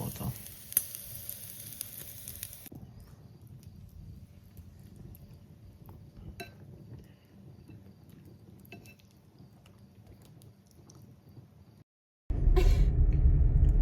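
Salt-and-peppered lamb chops sizzle on a braai at a camp in the Kgalagadi, a crackling, popping fry close by that runs steadily, then cuts out briefly before a louder rumbling burst.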